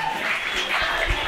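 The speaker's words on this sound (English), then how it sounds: "can we all give Jeff, our amazing drummer, a round of applause" Wedding guests at Athol Hall in Sydney applaud the drummer in a short, steady burst of clapping spread across the room.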